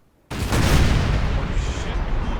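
Heavy cannon and artillery fire in the Napoleon Total War battle game, a sudden loud booming onset that rolls into a sustained rumble of overlapping blasts.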